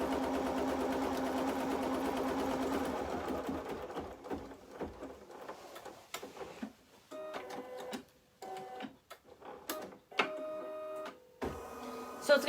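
An embroidery machine stitches a tack-down line on fabric at the corner of a design, giving a steady mechanical hum that breaks into rapid stop-start bursts of needle clatter, loud and close, with no talk over it.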